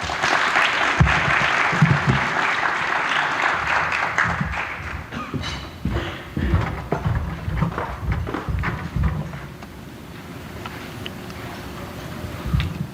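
An audience at a statewide healthcare workforce kickoff event applauds to welcome a speaker, a dense patter of clapping that is loud at first and then thins into scattered claps and shuffling as the room settles.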